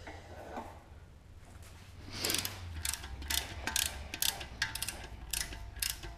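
A ratchet clicking in quick repeated bursts during a Porsche 944 LS engine swap, close and fairly loud over a low garage hum, starting after a quieter opening.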